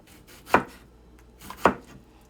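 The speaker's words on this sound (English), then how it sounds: "Cut the tomato up." Two sharp knife strikes through a tomato onto a cutting board, about a second apart, close and crisp with quiet kitchen room tone between them.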